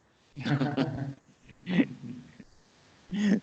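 A dog close by makes several short vocal bursts, whining, huffing and growly noises separated by brief pauses, heard indoors.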